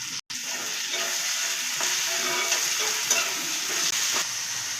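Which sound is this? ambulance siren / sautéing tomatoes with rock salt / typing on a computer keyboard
sautéing tomatoes with rock salt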